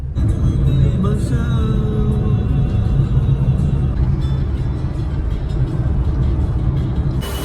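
Busy road traffic on a city street dug up for roadworks, with a steady close rumble of cars, buses and trucks, a brief air-brake-like hiss near the end, and faint voices in the background.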